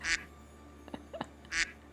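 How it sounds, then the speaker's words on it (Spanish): A duck quacks in the background during Sims gameplay, with two loud, close nasal quacks about a second and a half apart and a few fainter calls in between, with no speech over them. "Gameplay de los Sims con pato de fondo."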